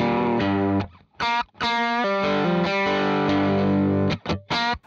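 Distorted electric guitar played through a TONEX with a speaker IR of a Celestion Blue miked with a 57, loud sustained chords cut by short muted stops and rhythmic chugs, with no talking.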